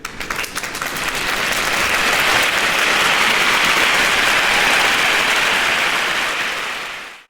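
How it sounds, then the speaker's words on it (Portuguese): A church congregation breaks into loud, dense applause during a sermon, swelling quickly and holding as a thick wash of hands before fading sharply at the end. "Aplauda Ele."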